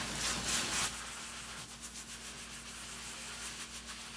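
Scrubbing a stovetop with The Pink Stuff, a mildly abrasive cleaning paste: a steady, close rubbing and scouring that is loudest at first, then continues in softer repeated strokes with a faint electrical hum underneath.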